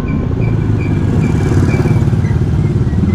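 A motorcycle engine runs steadily close by, a dense low rumble that holds even and continuous throughout, with faint background noise above it.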